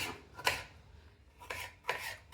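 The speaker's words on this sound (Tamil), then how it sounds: "இப்படி சின்ன சின்ன துண்டுகளாக வெட்டி போட்டு போட போகிறோம்" A knife chops tomatoes into small pieces on a cutting board while a vegetable soup is prepared, with three sharp, close cuts spaced unevenly over a low background hum.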